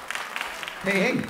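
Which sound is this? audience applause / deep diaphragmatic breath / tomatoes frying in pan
audience applause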